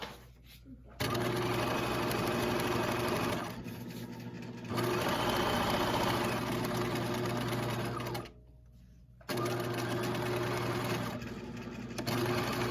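A sewing machine stitches a romper seam and back tacks at its end, running close in steady bursts of several seconds, broken by two brief pauses.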